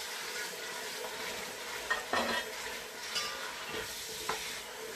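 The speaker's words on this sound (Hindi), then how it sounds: "हम लहसुन को अच्छे से फ्राई करेंगे कि जो इसका कच्चापन है वो खत्म हो जाए।" Garlic and onions frying in a pan for chicken pulao, a steady broad sizzle with a few sharp scraping strokes of a spoon against the pan, no talking.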